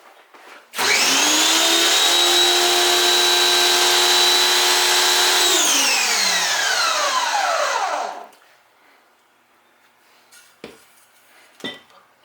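Pressure washer motor starts abruptly and runs with a loud steady whine for about seven seconds, then winds down in a falling pitch and stops, followed by a couple of faint clicks and knocks.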